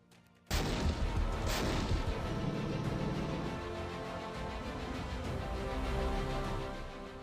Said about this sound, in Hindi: जिस तोप की गड़गड़ाहट से दुश्मन थर्रा उठता है